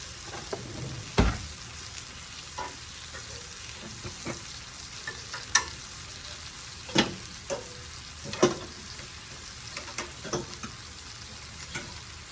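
Onions sizzle in a pan for cabbage and sausage, a soft steady fry broken by sharp scrapes and clacks of stirring at irregular intervals, close by with no talking.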